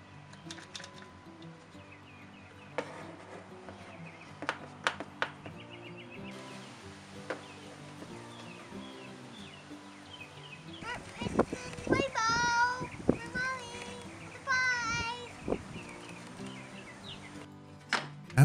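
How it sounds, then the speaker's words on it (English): Birds sing outdoors in repeated chirping phrases at a moderate distance, heard over workshop clicks and tapping and some speech. "listening to the birds singing outside."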